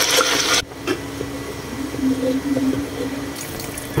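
Water is poured into a pan of sautéed ground chili paste for sambal tumis, a brief hissing splash followed by steady close sizzling and bubbling with scattered small pops.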